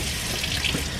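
Hot water pours steadily from a newly replaced kitchen tap in a camper van, a constant close rushing splash with no talk.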